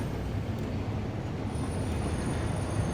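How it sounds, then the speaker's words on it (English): A train in the video game Satisfactory rumbles and grinds on its track as it comes to a stop, a continuous low mechanical drone with faint metallic squeal, heard alone at moderate volume. "let's just stop the train here for a second"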